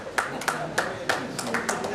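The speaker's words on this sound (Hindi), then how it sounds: "आप ताली बजा रहे भाई साहब" Scattered claps at a farewell ceremony, a handful of sharp hand slaps at uneven intervals over about two seconds, with a voice murmuring underneath.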